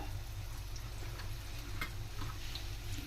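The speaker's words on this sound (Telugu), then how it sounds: "చక్కగా ఆ దోశని ఉడకనివ్వండి." Onion dosa batter cooking on a hot pan gives a steady, close sizzle and crackle of frying, continuous throughout, with a few light scrapes and ticks.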